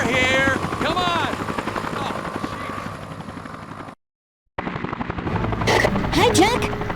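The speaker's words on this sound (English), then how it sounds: "News chopper, right across from you." A news helicopter hovers near the player in the video game Dead to Rights, its rotor chopping steadily under loud voices and harsh game audio, briefly cutting out before returning.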